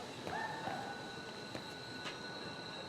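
Inside the video game Syberia: The World Before, a train rumbles steadily with faint metallic wheel squeals and a thin high whine, a low continuous rolling mass heard alone with no talk.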